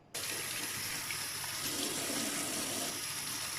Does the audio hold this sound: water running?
yes